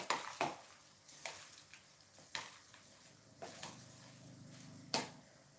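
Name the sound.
stirring popcorn kernels with a spoon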